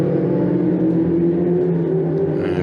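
Ferrari Challenge race cars roar down the fastest straight of the Nürburgring circuit, a sustained loud engine drone holding steady pitch with a slight rise near the end, no voices.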